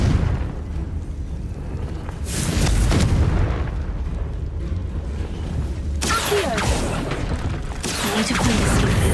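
In Hogwarts Legacy, the Confringo spell sets off loud booming blasts, one rising a couple of seconds in and another surging later with crackling debris and rumble that lingers through the rest.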